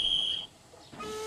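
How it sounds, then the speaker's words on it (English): A railway guard's whistle from a Thomas & Friends episode sounds one short, shrill, steady blast at the start, then gives way to quiet, faint tones. "The guard blew his whistle and waved his green flag."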